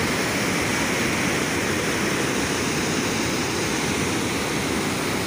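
Water rushes loudly and steadily from close by, a dense, unbroken roar like a waterfall or fast torrent that fills the whole stretch without pause.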